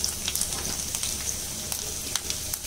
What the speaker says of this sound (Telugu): నూనె కాగిన తర్వాత ఇందాక మనం కట్ చేసి పెట్టుకున్న చిన్న ఉల్లిపాయలు వేసుకుందాం